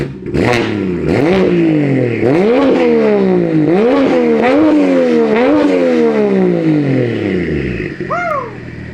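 A single-turbo BMW F82 M4 engine revs hard and loud again and again, pitch climbing and dropping in repeated sharp pulls, then a brief whistling spool as it winds down.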